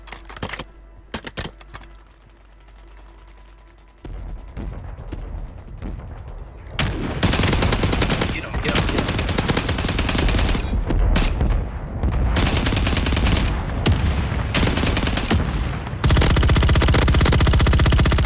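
Gunfire in Call of Duty Warzone on Rebirth Island: scattered single shots at first, then sustained loud bursts of automatic fire that fill most of the stretch, up close and dense, with no talking.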